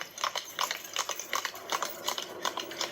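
Horse-drawn buggy hooves clip-clopping on a city street, a steady rhythmic series of sharp hoof strikes, fairly close and moderately loud, with no voices.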